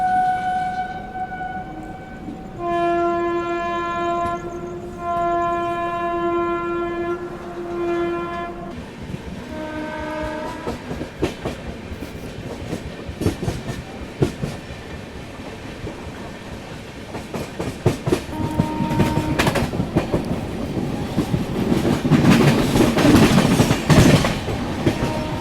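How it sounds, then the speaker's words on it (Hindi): A passenger train departs from a station near Howrah toward Santragachi, opening with long two-tone horn blasts, then building into loud rolling clatter and rhythmic wheel clicks as it picks up speed close by. "ये जो आप ट्रेन देख रहे हो ना, ये अभी निकल जाएगी उस तरफ"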